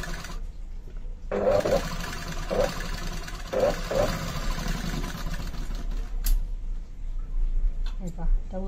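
A sewing machine runs in short bursts while stitching a katori blouse, a close motor whir with rhythmic needle ticking and someone talking over it.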